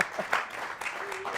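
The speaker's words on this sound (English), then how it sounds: "Give a round of applause because he's got some explaining to do." Brief studio audience applause, a short burst of clapping at moderate level with a voice partly over it.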